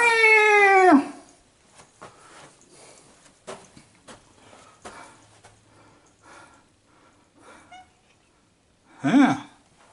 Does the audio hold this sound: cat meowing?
yes